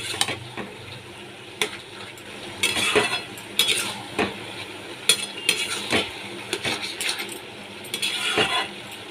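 Hilsa fish head and ash gourd being stirred in a pan with no water added, a spoon scraping and clinking against the metal in irregular bursts over a soft background sizzle.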